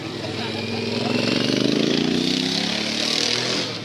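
A Suzuki Bandit 250 motorcycle engine running close by on a group ride, a buzzing, rising mid-pitched drone that swells and then drops away at the end.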